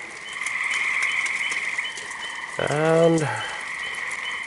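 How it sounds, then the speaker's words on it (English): Frogs at a homestead croak loudly in light rain as a steady chorus, and one deep, throaty croak sounds close by partway through. A voice briefly speaks. "The frogs are loud."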